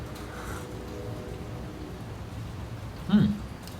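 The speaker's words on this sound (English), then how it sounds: "it was gonna stop raining, but it's not raining that strong now" Light rain falls outdoors, a soft continuous patter near the listener, with a brief knock near the end and no talking.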